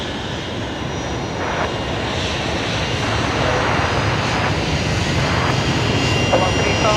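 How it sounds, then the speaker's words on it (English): Qantas jet rolling for takeoff at Brisbane Airport at night, a steady, loud, broadband engine roar that holds throughout with faint radio or voice traces in the background. "Qantas 549, rolling."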